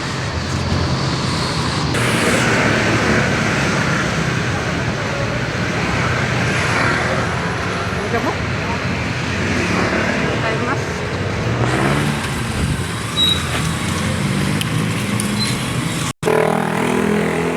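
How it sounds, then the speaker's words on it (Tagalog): Heavy traffic along MacArthur Highway at Malinta, Valenzuela City, with cars and buses passing in a constant loud wash of engine and tire noise; the density shifts slightly midway, and people can be heard talking beneath it. "traffic sa Malinta oh."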